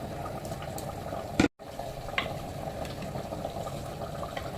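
Fish curry bubbles in a pot at a gentle boil, a faint steady simmering hiss with small pops and a brief clatter partway through.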